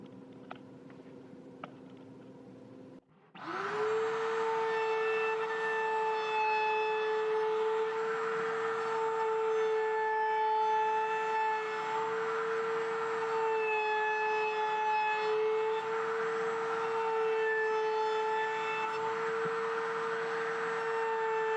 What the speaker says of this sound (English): let's round over the outside edges